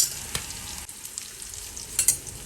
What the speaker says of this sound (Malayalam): ആവശ്യത്തിന് ഉപ്പ് ഉപ്പിട്ട് കൊടുത്ത ശേഷം ഒന്നിളക്കി കൊടുക്കാം